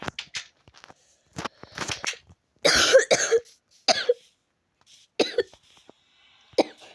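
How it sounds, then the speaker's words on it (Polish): A person coughs several times in short, harsh bursts scattered over a few seconds, close up, with quiet gaps between. "Przepraszam Was za mój kaszel."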